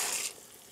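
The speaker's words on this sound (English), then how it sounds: "Okay, so the water is boiling, in goes the pasta" Pasta drops into a pot of boiling water with a brief hissing splash, after which a quiet bubbling continues.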